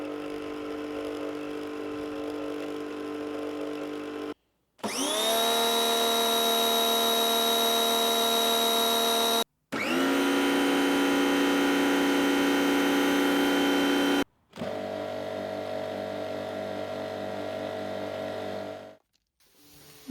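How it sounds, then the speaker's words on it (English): Several domestic pressure washers run one after another in separate bursts of a few seconds, each a steady loud motor whine with a different pitch and tone, divided by brief silences. "a comparison between a few other domestic pressure washers that I've tried, so you can hear the differences between them"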